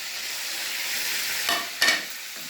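Mustard seeds and cumin sizzle in hot oil for a mushroom and cashew gravy curry, with a steady close frying hiss and two quick louder bursts of crackle as the spices go in.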